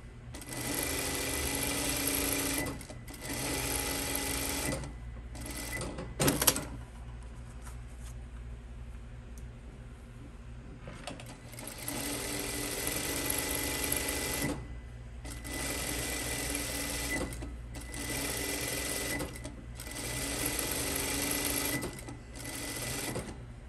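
Sewing machine stitching a seam on pajama shorts, running in loud bursts of steady whirring separated by short pauses, with back tacking, close and alone.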